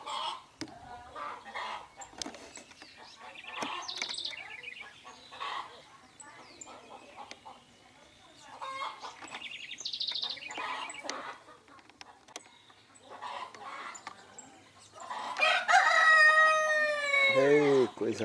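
Farmyard rooster and hens on a rural smallholding, soft clucking scattered through the clip and a loud close crow near the end, with birds and faint background sounds around.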